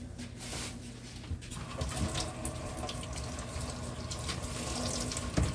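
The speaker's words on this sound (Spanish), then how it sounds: "Ahí lo está lavando para que no vayan a decir que nosotros no lavamos las cosas" Tap water runs steadily into a kitchen sink as a bunch of herbs is rinsed under it, a continuous moderately loud splashing wash with small fluctuations and no voices.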